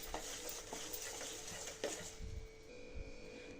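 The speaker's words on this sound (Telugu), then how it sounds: "ఈ నెయ్యిని కూడా కలుపుకొని బెల్లం అంతా మెల్ట్ అయ్యేలాగా కలుపుకుంటూ ఉండాలండి" A spoonful of ghee being stirred into melting jaggery in a pan, giving a low, faint sizzle with soft scraping and a few light utensil knocks against the pan.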